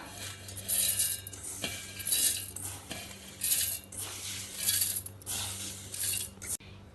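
Soaked ragi, urad dal and fenugreek seeds are tipped into a steel mixer jar, giving several bursts of clinking, rattling and scraping against metal spread across a few seconds, with a low steady hum underneath.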